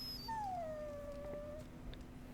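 Warhound in Dragon Age Origins gives a single drawn-out whimpering howl, a thin falling whine lasting over a second, fairly close against low game background noise, with no talking.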